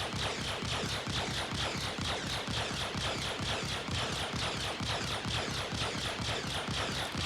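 Distortion guns fire without pause on a ship in a space combat game, a dense rapid stream of rattling shots layered over a loud constant roar.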